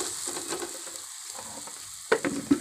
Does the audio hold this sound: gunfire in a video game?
no